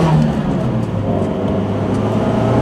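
A 1995 Nissan 200sx S14 Zenki pulls hard in first gear at full throttle, its engine droning loud and steady from inside the car with a rising mechanical whir.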